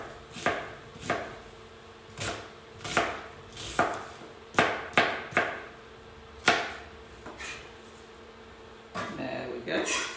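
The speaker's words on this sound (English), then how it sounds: "I also will come back a bit on cutting them, so I end up with fairly large bits of onion" A knife chops an onion into large pieces on a cutting board in a home kitchen: about a dozen sharp, irregular thunks, close and moderately loud, with a softer rustle near the end.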